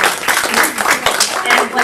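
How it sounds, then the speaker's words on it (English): Applause from a school audience celebrating an elementary spelling bee winner, a dense steady patter of many hands clapping, moderately loud and continuous, with speech mixed in over it. "let's give her a round of applause"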